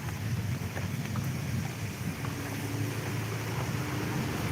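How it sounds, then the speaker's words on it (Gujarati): Heavy downpour in Bhavnagar, Gujarat, a steady wash of rain roaring without pause, with low rumbling underneath and no talking. "અહીંયા તો આજે વરસાદ ખૂબ જ ધોધમાર વરસી રહ્યો છે"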